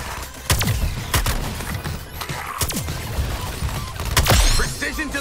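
Gunfire, explosions and whooshing effects from the video game Suicide Squad: Kill the Justice League burst out in several sharp, loud blasts over a busy, chaotic background of combat noise.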